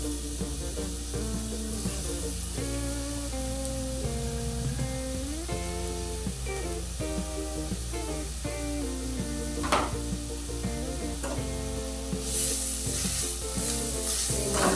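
Grated bottle gourd fries and sizzles in a hot pan, a steady, dense crackling hiss with occasional stirring scrapes, close and continuous with no talking.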